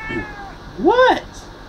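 A cat gives a single clear, rising-and-falling meow at close range, preceded by a faint sound and a brief moment of quiet.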